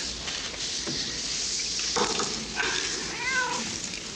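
A cat meows and caterwauls, several rising and falling cries near the end over a hissy background, fairly close.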